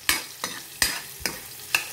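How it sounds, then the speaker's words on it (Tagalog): Garlic sizzles in a pan for chicken afritada while a utensil stirs it in five sharp, evenly spaced scrapes over a soft background crackle, close up and with no talking. "Tapos, ihulog na rin natin ang garlic."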